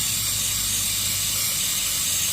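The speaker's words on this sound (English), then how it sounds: "brake cleaner of choice. Clean it off." Brake cleaner sprays from an aerosol can onto a spin-on oil filter of a John Deere 400 garden tractor, giving one loud, continuous close hiss with no talk.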